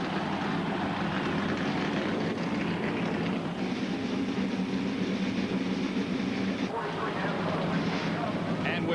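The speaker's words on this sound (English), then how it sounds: "Gentlemen, start your engine" Dense, loud roar of many NASCAR Cup Series stock car engines firing up together at Richmond in 1998, a sustained rumbling drone with a steady low hum throughout, with a voice talking over it.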